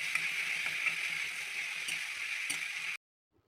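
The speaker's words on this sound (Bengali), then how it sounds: "রসুনটাকে ভালো করে ভেজে নেব যতক্ষণ না রসুনের কাঁচা গন্ধটা যায়" Garlic paste fries in hot oil in a pan for a prawn dish, a loud continuous hiss with a few faint pops, up close, stopping abruptly near the end.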